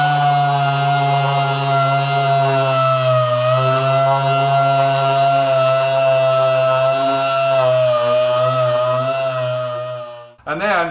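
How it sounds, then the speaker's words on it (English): Dual action sander running 80 grit sandpaper over aluminum gives a loud, steady buzzing whine that holds constant for about ten seconds, then cuts off abruptly near the end. "get your DA sander, your dual action sander, and you want to go ahead and get some 80 grit sandpaper"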